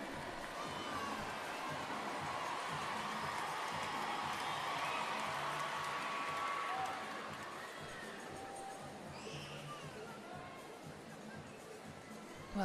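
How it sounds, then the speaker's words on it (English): A French crowd at a men's gymnastics floor final in Paris roars and cheers, a broad sustained wall of cheering that dips after several seconds and continues more softly, heard from a distance. "those cheers going up because this French crowd know that their athlete is still in front"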